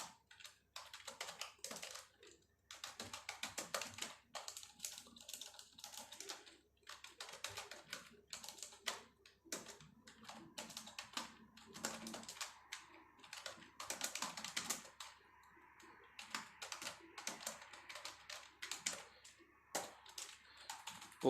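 Names are typed into an Excel spreadsheet on a computer keyboard, with quick, irregular bursts of close key clicks separated by short pauses, fairly quiet and with no voices.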